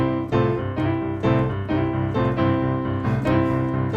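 A piano plays a steady, rhythmic boogie bass line, repeated low notes bouncing along with a sliding figure, played alone without talk.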